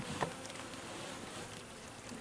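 Bees buzz steadily around an open top bar hive, a dense continuous insect drone close to the listener, with no talking.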